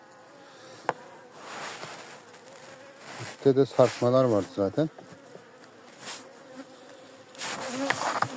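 A steady, close hum of many honeybees buzzing around a hive, with a person speaking briefly over the droning.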